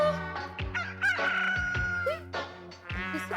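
A rooster crows indoors inside a house, loud and close, with several drawn-out cock-a-doodle-doo calls in quick succession.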